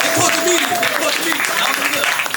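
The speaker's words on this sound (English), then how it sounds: "Clap it up for yourself." Audience clapping at a spoken-word poetry performance, a steady crowd patter of hands with voices calling out and talking over it throughout.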